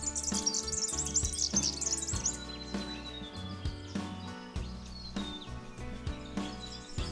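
Birds chirping in a natural outdoor setting, a busy burst of high twittering calls at first, then scattered thin whistles and chirps continuing at moderate distance over soft background sound.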